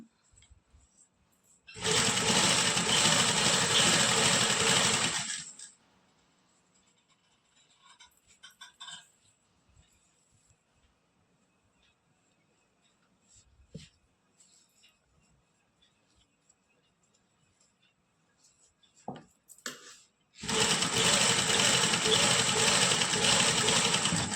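Sewing machine stitching piping onto a lined suit, running in two loud steady bursts at the start and end, separated by a quiet stretch of faint handling sounds.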